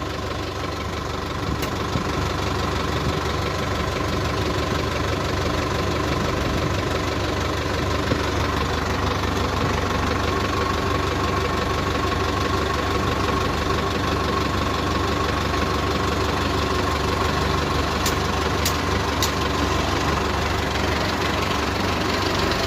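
A New Holland 3230 tractor engine idles steadily at a farm loading site, making a continuous low rumble and knock at an even level throughout, with no talking.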